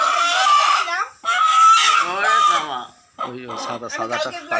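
A desi (country) chicken clucks and squawks loudly up close in a few drawn-out calls, followed by quicker, choppier clucking.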